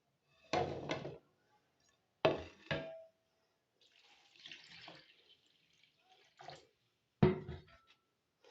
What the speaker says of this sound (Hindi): पानी डालेंगे अच्छी तरह, 2-3 पानी में हमने इनको धो लेना है।